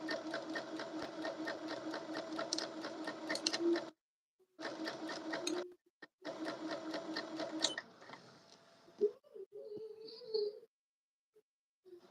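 Home sewing machine stitching in three loud bursts of steady, rapid mechanical rattle separated by short pauses, then quieter handling clatter and a brief whine at the end; no talking during the run.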